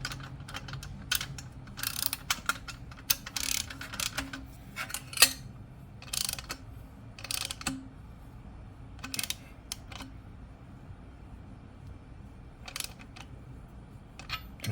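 A wrench tightens a 19 mm bolt on an Akrapovic exhaust fitted to an Africa Twin Adventure Sports motorcycle, giving repeated close ratcheting clicks and metallic taps in short irregular bursts.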